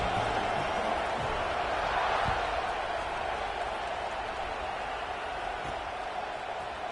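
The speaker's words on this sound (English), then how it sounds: "this crowd is buzzing after that last score" A stadium crowd at an NCAA college football game keeps up a steady, broad roar and murmur just after a score, fairly distant and unbroken throughout.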